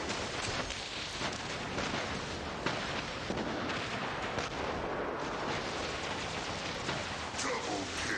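Weapons on robots in the War Robots video game fire in a dense, continuous barrage of booms and crackling bursts, loud and unbroken throughout.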